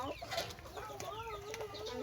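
A fighting rooster clucks and calls repeatedly in short, rising and falling phrases, close by, over a steady outdoor background hum.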